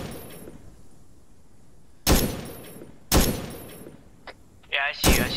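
Gunfire in Arma 3, a vast Vietnam-era battle: loud, sharp single shots crack at intervals over a quiet ambient bed, and a voice briefly chimes in near the end.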